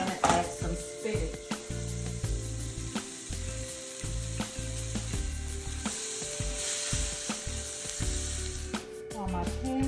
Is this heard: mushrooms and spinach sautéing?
yes